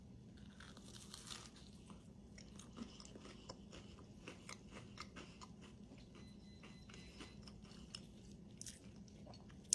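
Someone bites into and chews a crunchy bacon cheese biscuit close up, giving steady crunching and chewing with sharp crackly bites throughout and no talking.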